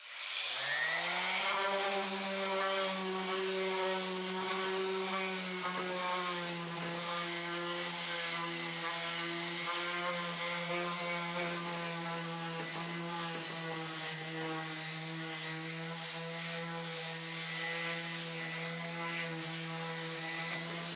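A power sander fitted with an 80 grit sandpaper disc works a rustic farmhouse coffee table, spinning up with a rising whine and then holding a steady, buzzing drone for the full stretch, close and unbroken.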